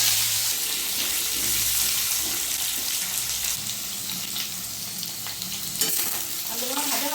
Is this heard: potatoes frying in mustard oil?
yes